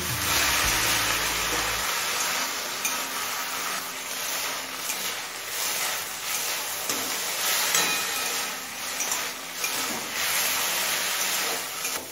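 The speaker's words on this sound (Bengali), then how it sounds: "এবার মিডিয়াম ফ্লেমে আরও কিছুক্ষণ ভেজে নেব" Kharkol leaves, mixed with salt, fry in a pan over a medium flame, giving a steady, close sizzling hiss that carries on evenly without any talking.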